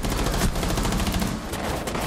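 Rapid bursts of gunfire in Rainbow Six Siege crackle continuously, like automatic weapons firing in quick succession, moderately loud and slightly distant.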